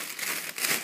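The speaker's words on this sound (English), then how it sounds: "And there is a big, giant plastic bag of that." A big plastic bag crinkles close up in a quick burst of crackling rustles, with no voices.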